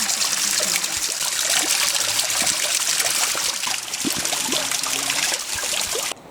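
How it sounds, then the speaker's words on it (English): Water drips and runs steadily among ferns on a Madeira trail, a close, continuous trickle with scattered drops, heard alone until it cuts off near the end. "with the constant drip and running of water"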